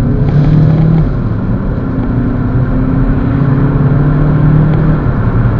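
Heard from inside a VW Jetta family car, the engine drones steadily as the car accelerates toward 60, a loud continuous hum mixed with road noise, with no talk over it.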